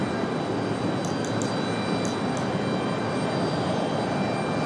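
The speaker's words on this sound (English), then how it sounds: "we've got the Lufthansa to push back here in just a minute" A steady, broadband roar of airliner engines runs throughout at Raleigh-Durham airport, with a Lufthansa jet about to push back and a few faint high clicks near the start.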